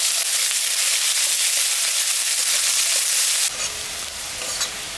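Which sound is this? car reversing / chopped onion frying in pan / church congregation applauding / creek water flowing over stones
chopped onion frying in pan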